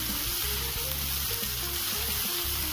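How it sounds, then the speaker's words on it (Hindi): Rice stir-fried with Schezwan chutney sizzles in a continuous, even hiss at close range, with low hums and a few faint stirring scrapes underneath. "तो चलिए इसे अच्छे से डालकर इसे थोड़ी देर से अच्छे से भून लेंगे चावल को।"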